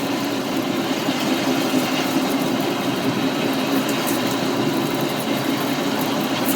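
A small lathe parting off steel at around 200 to 300 RPM under firm cross-slide feed, producing a steady, continuous low droning hum and grind with even loudness throughout and no chatter.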